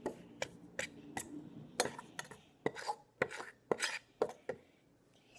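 A fork stirs a mixture in a bowl for an Easy-Bake Oven, giving a rapid series of sharp clinks and scrapes against the side.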